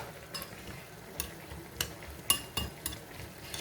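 A spoon stirs homemade salsa dressed with lemon juice in a bowl, giving soft wet scraping with a few sharper clinks against the side, close and fairly quiet.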